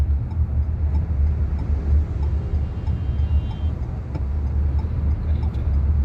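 Dense road traffic crawls along a roadway near a tunnel in Riyadh, a steady loud rumble of car and truck engines with continuous low drone and passing vehicle noise, no talk heard.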